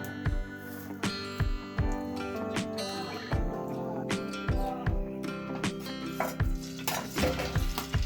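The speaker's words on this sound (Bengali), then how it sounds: "কুচি করে রাখা পেঁয়াজ আর কাঁচামরিচ দিয়ে দিলাম এবার একটু ভেজে নিব" Chopped onions and green chilies frying in a little hot oil in a frying pan, a steady sizzle under repeated scraping and clinking of a utensil stirring against the pan.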